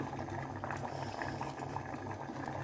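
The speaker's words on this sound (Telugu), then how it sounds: "ఒక 5 మినిట్స్ ఉడకనివ్వాలి." Spinach and raw mango dal boiling in a pot gives a steady, close bubbling and gurgling that runs evenly throughout, fairly soft, with no voices.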